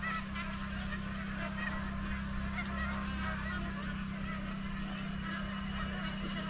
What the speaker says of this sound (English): Old magpie geese coming back.